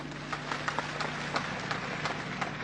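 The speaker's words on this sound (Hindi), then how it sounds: "आप लोगों ने तालियों से मेरी बात का स्वागत किया है" An audience claps steadily at a political speech in Nagpur, dense applause from many hands sustained at even loudness throughout, with no voice over it.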